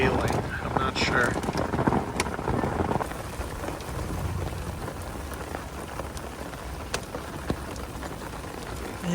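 Hail and rain drum on rooftop tents during a thunderstorm in the Wyoming backcountry, a dense steady patter with scattered sharper impacts and low rumbling throughout.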